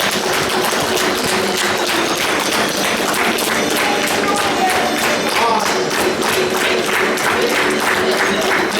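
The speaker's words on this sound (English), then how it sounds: "round of applause" Audience at a convention quiz show breaks into sustained applause, a loud, dense wash of clapping hands running steadily throughout with some crowd noise and scattered thumps underneath.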